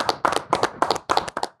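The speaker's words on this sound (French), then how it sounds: "si on peut faire un tonnerre d'applaudissements pour Dark Vador 93" A small audience clapping for a guest, brisk close hand claps in uneven rapid bursts over under two seconds.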